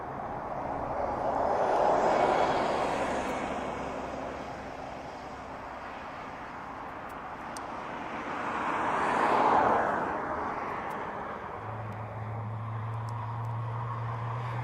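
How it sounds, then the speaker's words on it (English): An aircraft passes overhead at East Midlands Airport, a broad jet roar that swells toward a peak and fades, followed by a second louder pass and a steady low hum at the end. "Wish that aircraft that just went, it was a little bit higher."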